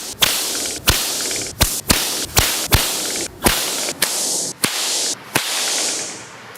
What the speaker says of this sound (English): We're just gonna show you how a whip breaks the sound barrier.